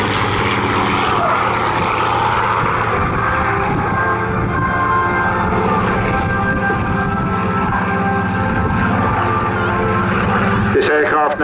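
A Rolls-Royce-owned Supermarine Spitfire PR XIX with a Rolls-Royce engine flies over Southport Airshow. A loud, continuous propeller-engine roar holds steady throughout, with a voice talking over it.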